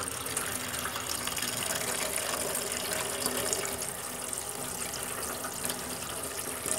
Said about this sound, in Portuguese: Depois de lavar bem a erva,